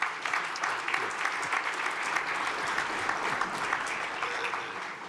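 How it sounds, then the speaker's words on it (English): An audience at a National Governors Association meeting gives a round of applause, a dense, steady clapping that continues evenly throughout with no speech over it. "Please give them a round of applause."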